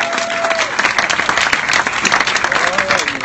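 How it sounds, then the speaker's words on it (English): Audience applause at a live concert, a dense continuous roar of many hands clapping with some crowd noise, a voice briefly heard over it. "One more round of applause for"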